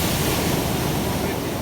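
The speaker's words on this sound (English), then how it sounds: "And then big waves." Big ocean waves break steadily on a Jamaican beach beside a fishing village, a loud, continuous wash of surf with wind rumbling over the microphone and no pauses.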